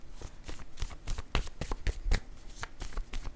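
A deck of oracle word cards is shuffled by hand before one is drawn, giving quiet, close, quick papery riffles and soft taps in an uneven rhythm over about three seconds.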